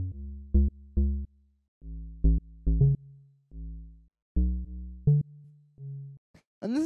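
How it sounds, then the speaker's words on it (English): Synth bass line following a chord progression in a track, playing short separate low notes in a loose rhythm with gaps of silence between them, alone and clear. "So the next layer here is this bass, which sounds like this."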